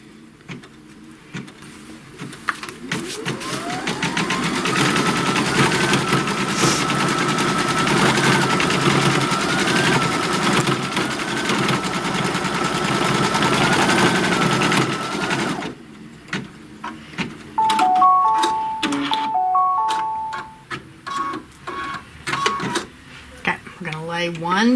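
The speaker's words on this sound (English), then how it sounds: "So it's going to stitch that." An embroidery machine stitches a placement line on brown felt for a taco shell piece, a rapid steady mechanical chatter running loud for about fifteen seconds, then a pause, a few beeps and intermittent clicks.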